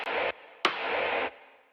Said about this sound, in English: this little snare rim and snare tail I like to add, which kind of sounds like this